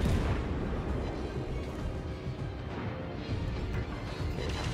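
Warship guns firing shells in World of Warships, heard as a low, muffled, continuous rumble of booming salvos mixed into steady battle noise, fairly quiet and distant throughout.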